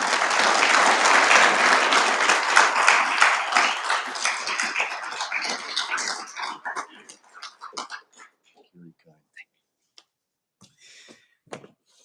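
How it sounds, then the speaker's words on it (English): Loud applause from an audience welcoming a former general manager and director to the podium at a memorial event, sustained dense clapping that thins out into scattered claps and small noises over several seconds. "you guys welcome him with a loud applause"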